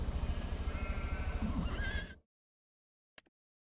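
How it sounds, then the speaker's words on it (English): A horse on a restoration farm neighs close by in a long, rough, quavering whinny that cuts off abruptly, followed by silence and a faint brief tap. "let's have a quick short look at our horses."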